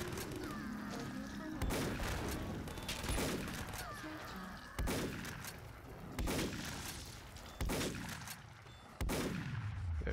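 Heavy gunfire in the Killing Floor zombie shooter, a series of loud single booming shots roughly every second or so, each with a ringing tail, over a steady background din and faint talk.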